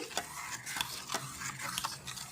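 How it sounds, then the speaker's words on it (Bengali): Batter with salt being stirred for sorucha kli pitha, a run of soft wet scraping and sloshing strokes at a quick irregular pace, close and fairly quiet. "এখন একটু ভালো করে নেড়ে চেড়ে মিশিয়ে নিচ্ছি"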